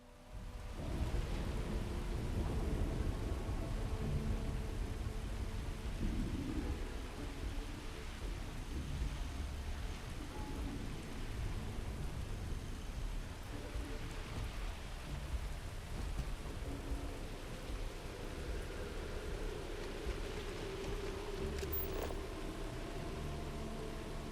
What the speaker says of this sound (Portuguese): Tá chovendo, ó.